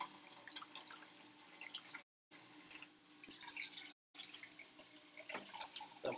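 About three cups of water measured out for cooking bulgur, a faint, close trickle and scattered drips of pouring water, broken by two short silent gaps.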